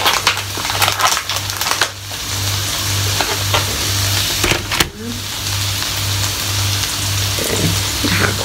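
Bacon crackling and sizzling in a small frying pan alongside mushrooms, with a steady broadband fry, a few scrapes or stirs, and a low constant hum underneath; no talking.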